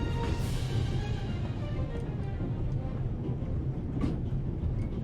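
A train runs steadily in The Raven: Legacy of a Master Thief video game, a low continuous rumble with faint clanks throughout.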